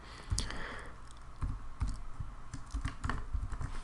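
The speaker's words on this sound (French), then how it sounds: "je clique dessus et tout simplement je tape le texte" Typing on a computer keyboard, text entered into a form field: close, irregular bursts of key clicks and clacks, some keystrokes sharper and louder, with no voices.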